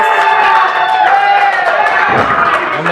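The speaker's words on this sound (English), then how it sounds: "And the crowd is going wild for Gabe Cruz." Crowd at an alley fight between Carson Chris and Gabe Cruz cheering and roaring steadily and loudly throughout, with shouts rising over the din and a commentator's voice running underneath.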